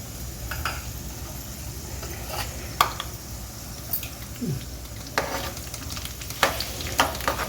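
Chana dal, urad dal, mustard seeds and cumin frying in hot oil for avalakki puliyogare, a steady soft sizzle with scattered pops and a few light stirring scrapes, close by and without talk.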